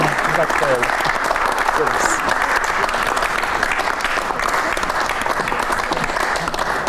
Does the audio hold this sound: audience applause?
yes